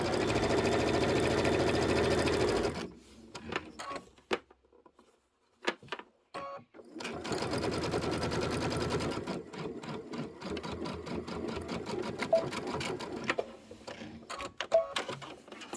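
A sewing machine stitches the outer borders of a Kimberbell April quilted table topper: a steady close run, a pause with scattered clicks and handling, then a longer whirring run broken by brief stops.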